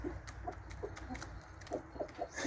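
Backyard chickens cluck in short, soft bursts scattered across a few seconds, close by and fairly quiet over low outdoor background noise, with no talking.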